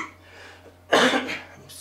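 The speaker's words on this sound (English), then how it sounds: "this cough is just terrible." A person coughs once, a sharp loud burst in a quiet room after a faint low hum.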